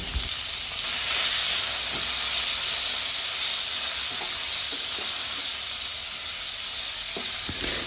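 A loud, continuous sizzle and hiss of spices frying in a hot pan, with occasional soft knocks of stirring; no talking.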